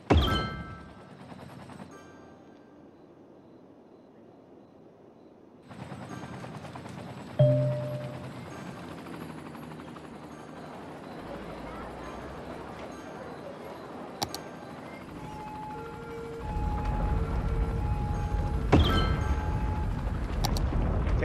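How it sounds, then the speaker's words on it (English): An earthquake in the city-building game Cities: Skylines rumbles as a low, sustained roar that swells after a few seconds and intensifies further near the end, layered with crackling and scattered sharp ticks. "An earthquake is occurring."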